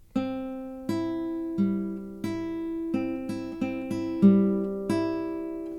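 Clean guitar plays a short melody: four evenly spaced longer notes, then four quicker ones, then longer notes again, each pluck decaying gently.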